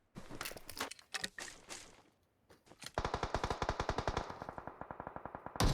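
Gunfire in PUBG Mobile: scattered single shots at first, then a sustained rapid automatic burst of evenly spaced loud cracks, close and dominant.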